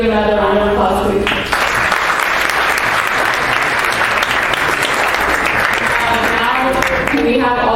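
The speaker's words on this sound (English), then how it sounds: "Could we give another round of applause, please?" A conference audience bursts into loud, sustained applause that fills the room for several seconds, dense and even, fading slightly as it nears the end.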